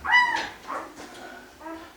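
Five-day-old Berger Blanc puppies whimper up close: a sharp high cry, then softer wavering whines and a final short yelp-like whimper, with no talking.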